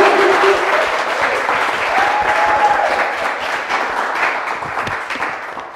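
An audience at an entertainment show gives a loud, sustained round of applause, many hands clapping in a thick steady roar with a few faint voices mixed in.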